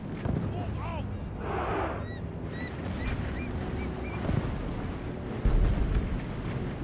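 Explosions in a Medieval 2 Total War battle against Aztec warriors, with several dull booms and rumbles layered over constant battlefield din and faint distant cries. Someone talks over the noise throughout.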